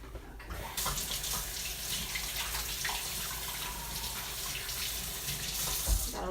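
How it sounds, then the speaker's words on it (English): Kitchen tap running while a hand is rinsed clean of egg, a steady close splashing gush of water that starts abruptly and continues unbroken, with a brief knock near the end. "Got a little bit of egg on my hand, so I just had to wash it off."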